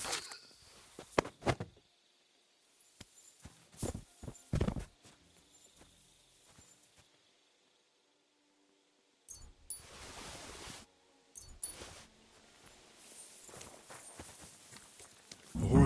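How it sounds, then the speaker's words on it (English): Horse hooves clip-clopping in a video game, broken bursts of hoofbeats with a gap of near silence in the middle, moderately close and fairly quiet. "The horses are here."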